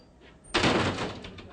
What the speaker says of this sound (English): this was the last sound they heard of freedom, this door slamming behind them.